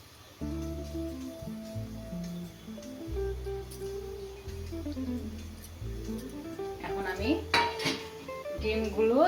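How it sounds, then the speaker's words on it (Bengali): Fried onions go into a pot of egg pulao with clattering metal utensils and spoon scrapes against the pot, close by, busier and louder toward the end, under a faint background hum. "যে পেঁয়াজের এটা ভেজে রেখেছিলাম এটাকে দিয়ে দিচ্ছি"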